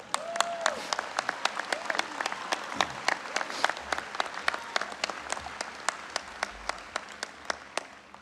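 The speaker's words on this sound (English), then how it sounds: "Give yourselves a round of applause." Graduates at a college commencement clap in a dense, steady round of applause that carries on throughout, sharp individual claps standing out, with a brief vocal sound near the start.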